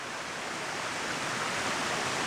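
Water running down rock beside a foggy hiking trail, a steady, close, unbroken rush of splashing flow with no voices.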